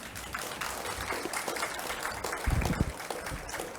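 A church audience at a Seoul women's mission society conference claps in dense, steady applause at moderate distance, with a low thump partway through.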